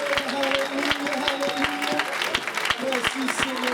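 A church conference congregation applauds and cheers, dense clapping with sharp rhythmic hand strikes and sung or shouted voices mixed in, steady and fairly loud.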